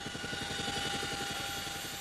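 Helicopter flying over mountain villages in Pakistan on a food-drop relief flight, a loud steady rotor chop and engine drone filling the clip without pause.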